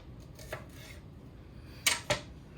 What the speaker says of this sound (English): Next, trim and thinly slice green onions.